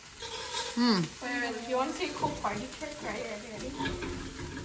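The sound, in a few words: onions and tomatoes sautéing and stirred in pan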